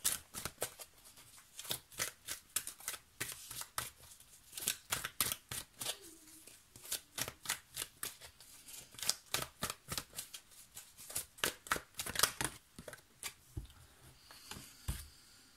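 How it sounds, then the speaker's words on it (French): Tarot cards being shuffled by hand in a quiet room, a long run of quick, crisp riffling bursts in a steady rhythm, close and fairly soft, with no talking. "Je vous montre les cartes, je vais mélanger ici."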